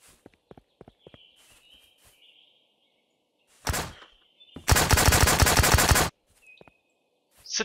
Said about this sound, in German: Und wer schießt auf mich?